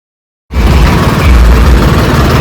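Tractor engine running steadily while riding, a loud, continuous low rumble that starts abruptly after a half-second of silence and holds close and constant with no talk.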